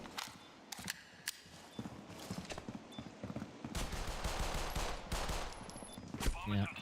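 Pistol fire during a competitive tactical-shooter esports match: scattered sharp shots crack out amid footsteps, then thicken into a busier exchange of gunfire near the end, all fairly close.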